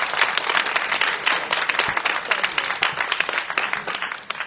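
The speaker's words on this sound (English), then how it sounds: "let's have another round of applause for" An audience at a civic center meeting bursts into lively, close applause, with dense overlapping claps that stay strong for several seconds and then begin to thin toward the end.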